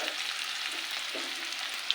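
Ginger, garlic and green chilli paste frying in hot oil, a soft, even sizzle close up with a small clink near the end.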